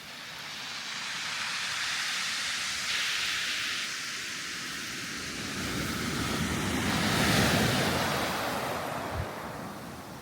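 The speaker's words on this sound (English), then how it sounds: "The tide is getting stronger." Ocean waves and surf break along the Snæfellsnes coast in Iceland as the tide grows stronger, giving a steady broadband wash that swells twice. Wind buffets the microphone throughout, and no one speaks.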